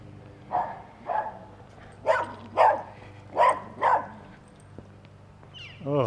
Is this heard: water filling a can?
no